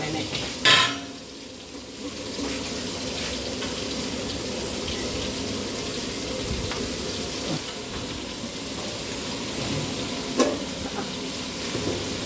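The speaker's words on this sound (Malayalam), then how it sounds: "ഇതിനകത്തിട്ട് നമുക്ക് സവാളയെ നന്നായിട്ടൊന്ന് വഴറ്റിയെടുക്കാം" Chopped onions sauté in hot coconut oil for a Malabar chicken curry, giving a continuous close sizzle with a few sharp clinks and scrapes from stirring in the pan.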